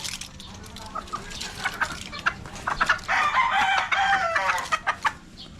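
Chickens cluck busily nearby while a rooster crows loudly through the middle, with scattered squawks and clucks before and after.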